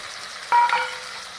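Potato and capsicum dropped into a hot, dry frying pan, one sudden close sizzle burst with a light metallic clink that fades into a low steady frying hiss.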